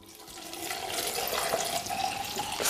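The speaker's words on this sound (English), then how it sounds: "we're going to fill it with some water" Water is poured into a blender jar in a home kitchen as part of making ginger lemon water, a steady rushing pour that swells slightly and continues without talk.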